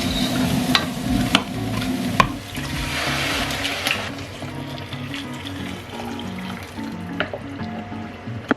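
Frozen ingredients fry in spray oil in a pan during a batch cook, giving a steady close sizzle broken by scraping stirs and clinks of a utensil against the pan.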